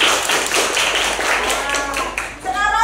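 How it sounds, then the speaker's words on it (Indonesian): A classroom of children claps together for group 1: dense, steady applause through the whole stretch, with voices mixed in near the end. "tepuk tangan dulu untuk kelompok 1"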